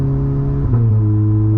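A car with a new IE transmission control unit tune holds a loud, steady engine drone, then its pitch drops sharply partway through as the gearbox shifts and the engine settles at a lower, even note.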